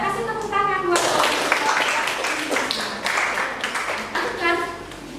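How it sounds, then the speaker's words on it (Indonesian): A classroom audience bursts into applause after a class presentation: a dense patter of clapping hands, close and lively, lasting several seconds, with children's voices mixed in. "Kasih tepuk tangan buat"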